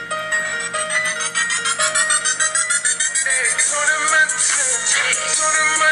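A song plays back through the small speaker of a Motorola DROID RAZR phone streaming over 4G LTE, with a bright, tinny melody and steady beat at moderate volume.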